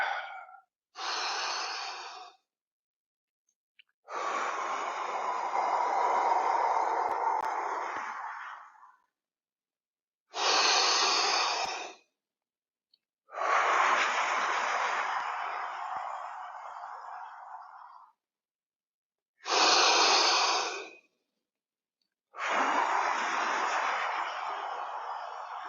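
Slow, deep breaths during a martial arts class exercise, long drawn inhales and exhales alternating with silent pauses, six or so breaths close to the microphone.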